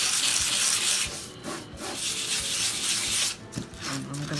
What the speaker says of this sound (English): I probably don't need to sand too much.